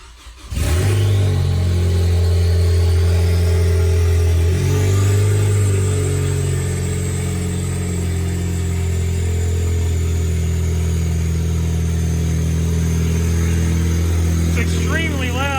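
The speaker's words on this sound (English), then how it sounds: "That downpipe is ridiculously loud." A turbocharged Ford ST cranks and fires on its first startup after a turbo install, then settles into a loud, droning idle through a downpipe exhaust, steady and close, with a high turbo whine above it.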